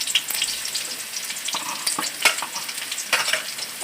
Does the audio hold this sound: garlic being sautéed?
yes